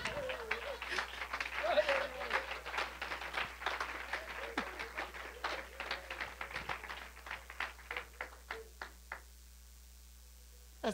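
A church congregation at a cell-group service breaks into applause for the Lord, dense clapping with cheering voices that thins into scattered, rhythmic claps before fading out.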